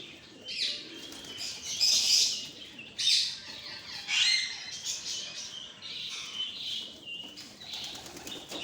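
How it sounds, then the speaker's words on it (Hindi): Gola pigeons in a loft squawk and flap their wings nearby in repeated bursts, with softer calls in between. "तो वो मेरे पीछे ऊपर बैठा हुआ कबूतर,"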